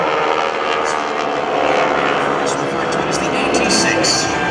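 A North American SNJ propeller trainer flies at an airshow in Rhode Island, giving a loud, continuous engine roar that stays steady. A public-address announcer talks over it throughout.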